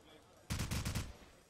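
A quick automatic burst of gunfire fired through walls in Call of Duty 4 during a competitive match, about five rapid shots in under a second, fairly loud against a quiet background.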